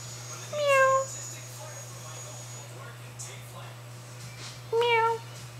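A cat meows twice, clear and close, with a long pause between the two calls, over a steady low electrical hum.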